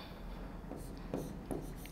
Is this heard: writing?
yes